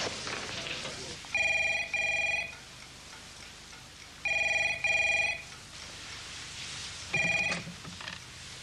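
A telephone bell rings in three separate double-ring bursts with quiet gaps between them, loud and nearby against faint background noise.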